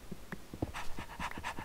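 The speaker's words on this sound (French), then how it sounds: "Voilà, c'est bien un chien." Dog panting in the Minecraft video game, a run of quick rhythmic breathy huffs repeating steadily at close range across the short clip, with no talk.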